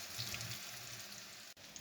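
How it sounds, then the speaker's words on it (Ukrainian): Steady, close sizzling and crackling of silver carp roe and potatoes frying in a hot pan, continuous throughout with a brief dip near the end. "Поки смажиться ікра і картопля"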